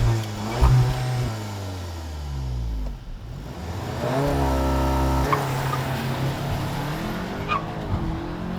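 A Volkswagen Arteon with all-wheel drive and a 206 kW engine launches hard, its engine revving loudly and climbing through quick, snappy dual-clutch gear changes, with a brief tyre chirp at the start.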